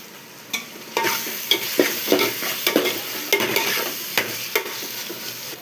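Tomatoes with biryani masala sauté in a pot for chicken biryani, giving a loud sizzle broken by repeated rhythmic stirring scrapes and clinks of a spoon against the pot, with no talking.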